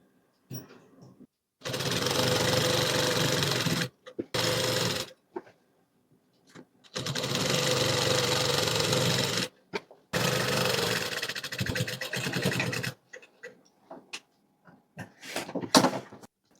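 A sewing machine stitches the folded belt of a readymade skirt in several bursts of steady motor whir, a few seconds each, separated by pauses and small handling knocks.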